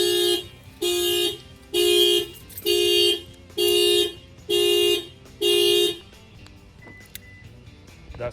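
The factory alarm on a Subaru Ascent, set off by an added shock sensor, honks loudly and nearby in seven evenly spaced horn blasts about three quarters of a second apart, then stops into quiet.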